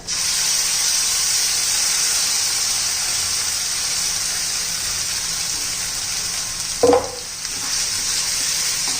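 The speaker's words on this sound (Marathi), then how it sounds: "चांगल्या तेलामध्ये परतून घ्यायचं आहे आपल्याला." Ground masala paste frying in oil after ginger-garlic paste for a rustic Maharashtrian curry, a steady bright sizzle throughout with a brief stir or clatter near the end.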